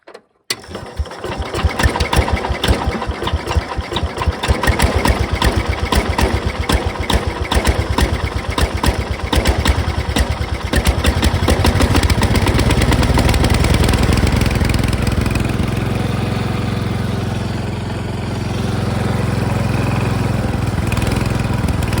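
A small Cub Cadet lawn tractor engine sputters and catches, then settles into a steady, loud idle close by, with uneven firing early on.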